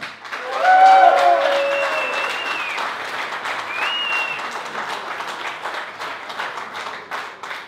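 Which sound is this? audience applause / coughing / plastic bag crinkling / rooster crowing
audience applause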